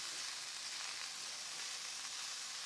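Jerk-seasoned pork tenderloin, cut into pieces, fries in a pan with a steady, even sizzle that holds unchanged throughout at a moderate, fairly close level, with no talking.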